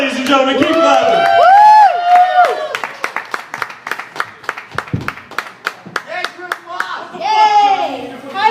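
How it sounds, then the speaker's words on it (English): Hand clapping at a comedy show breaks out between stretches of a voice, a quick burst of sharp, close claps with crowd noise rising near the end. "Alright, Christmas, ladies and gentlemen, keep clapping."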